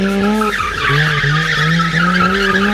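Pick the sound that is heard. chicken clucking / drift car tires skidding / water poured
drift car tires skidding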